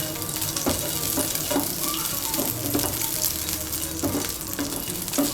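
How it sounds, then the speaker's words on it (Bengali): Butter sizzling and being spread on a hot tawa griddle before gola ruti batter goes on: a continuous hiss with repeated scraping and clinking strokes at an uneven rhythm, close up and fairly loud. "বাটারটাকে তাওয়ার মধ্যে ভালো করে মিশিয়ে নেব।"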